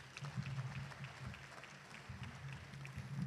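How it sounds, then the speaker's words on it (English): Audience at a Hall of Champions induction ceremony gives a round of applause, a faint steady patter of clapping from a modest crowd heard from a distance. "So let's have a round of applause for Ed Crosby."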